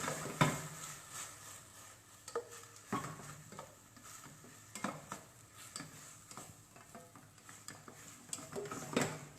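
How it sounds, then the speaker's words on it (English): Pasta sauce is sautéed in a pan over al dente pasta, quiet sizzling under repeated scraping and clinking of a utensil against the pan. "put in the pasta sauce, saute a little bit"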